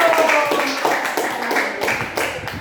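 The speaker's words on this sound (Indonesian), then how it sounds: "tepuk tangan dong" Brief burst of hand clapping from a small group in a classroom, scattered claps over about three seconds with murmuring voices underneath.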